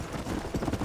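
Hooves clip-clop in a quick galloping rhythm from a horse in the Red Dead Redemption video game, close and fairly loud over a brief stretch.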